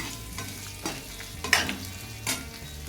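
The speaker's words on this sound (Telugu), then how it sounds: "ఇవన్నీ బాగా కలుపుతూ మనం ఫ్రై చేసుకోవాలి." Onions and dried red chillies fry in a pan for onion chutney, with a continuous soft sizzle broken by several sharp scraping stirs from a spatula.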